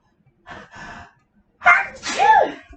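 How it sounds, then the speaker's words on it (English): A short sniffly intake followed by a sharp, close sneeze, with faint breathy sounds just before. "I don't know where I'm getting the sneezes from."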